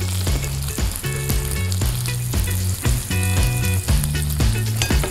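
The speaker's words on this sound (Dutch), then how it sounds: "wat die wel gaat doen is lekker krokant bakken in de roomboter" Corn kernels fry in butter in a pan to make a crispy tostada topping, giving a loud, continuous sizzle with crackling pops and a faint musical backing underneath, no talking.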